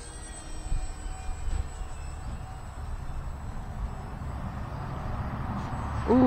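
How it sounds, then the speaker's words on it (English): A small UMX Waco model biplane flies outdoors in gusty wind, its faint electric motor whine steady and distant beneath a rushing wind roar that swells toward the end. "Pretty nice though, this plane."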